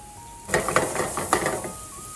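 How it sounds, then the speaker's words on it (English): A mushroom, onion and garlic mix hits hot oil in a pan, sizzling steadily over a low hiss, with a few clinks and scrapes as it is stirred and moved around. "Before throwing in your mushroom, onions, and garlic mix."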